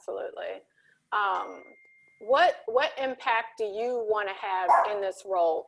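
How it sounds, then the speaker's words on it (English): A pet dog yips and barks in the background while a person speaks close to the microphone during an interview conversation, the barks mixed in among the talk. "Sorry, that's my dog."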